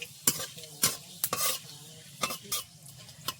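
Panch phoron five-spice fries in hot oil in a village kitchen, a soft continuous sizzle punctuated by sharp scraping stirs of a spoon against the pan.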